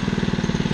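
A new Honda lawn mower engine runs at low throttle, a close, steady rapid chugging putter with an even pulse and no voices.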